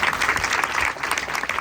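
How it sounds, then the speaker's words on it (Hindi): An audience at a religious gathering clapping for a boy whose eyesight was restored, a short burst of dense, lively applause, close and loud throughout. "तालियां बजा दो भाई इसके लिए"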